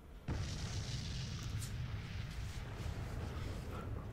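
A deep, booming explosion in the Warhammer 40,000: Battlesector video game erupts suddenly and loud, then rumbles on as a sustained low roar with crackling debris, no talking over it.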